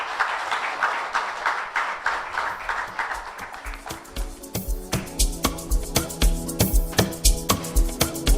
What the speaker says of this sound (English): Can we give a bigger round of applause to our guest of honor?